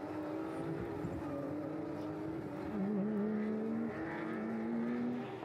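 Porsche 911 GT3 Cup (992) race cars run past on a circuit in endurance competition, engine tones rising and falling in a continuous roar with one car's pitch climbing noticeably midway, steady and fairly loud throughout.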